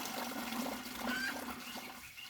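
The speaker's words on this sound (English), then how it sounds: "All you do is fill it up with water." Water running into a container to make a homemade swamp-water garden fertilizer: a close, continuous gurgling and splashing stream, steady throughout with no talking.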